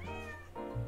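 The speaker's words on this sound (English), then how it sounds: "There's another cat right here." A single short cat meow from the Hidden Cats in New York video game, clear and close with a rising then falling tone, heard alone without speech.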